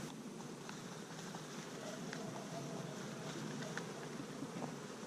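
Honeybees buzz steadily during a hive inspection, a faint, continuous insect drone heard close by with light outdoor background noise and no talk.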